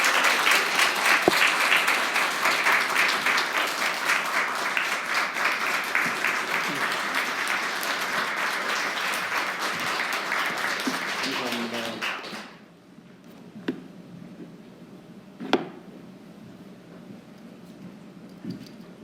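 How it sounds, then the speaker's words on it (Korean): A church congregation at a Sunday worship service gives a warm, sustained round of applause welcoming a guest pastor. The clapping is dense and steady for about twelve seconds, then cuts off abruptly, leaving a quiet room with a few isolated taps. "뜨거운 박수로 환영해 주시면 감사하겠습니다"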